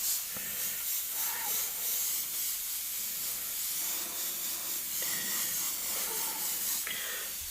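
A spray gun lays candy paint in a steady, close hiss of air and atomized paint with slight surges, while faint voices and small workshop noises sit under the spray.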